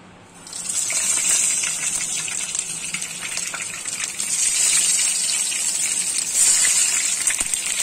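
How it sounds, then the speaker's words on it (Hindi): Stuffed tinda (round gourd) drop into hot oil in a kadhai, setting off a loud, steady sizzling hiss that rises at once and keeps going close by, with no talking. "तो तेल हमारा गर्म हो गया है, अब इसमें टिंडे ऐड कर देंगे।"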